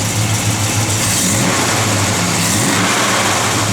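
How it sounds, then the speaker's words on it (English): A 1969 Dodge Dart GT with a mild cam rumbles loudly up close, its engine holding a choppy idle with small revving swells, and no voices over it. "Nice little cam to it, rumbles good."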